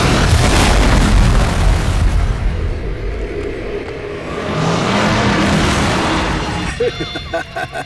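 A plane crash explosion from a TV crime drama: a loud, close boom opens with a broad rumbling roar that fades, swells again and trails off into scattered crackles.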